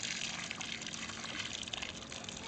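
A water fountain sprays a soft, steady gush of water that hisses continuously at moderate distance, with no voices.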